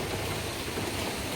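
Rain falls steadily in a dense, even patter, close and loud, with no pauses and no voices over it.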